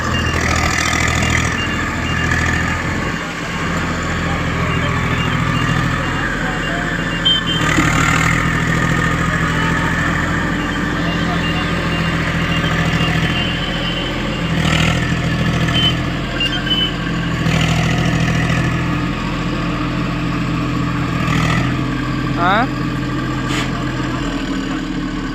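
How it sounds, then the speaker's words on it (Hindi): A tractor engine runs steadily at close range near Alwar during a gravel haul, a continuous low idling rumble with slight swells throughout and no speech over it. "वो ट्रैक्टर आया"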